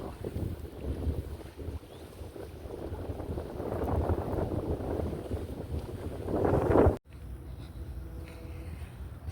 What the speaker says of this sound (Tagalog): Grabe, ang sarap ng hangin, ang presko.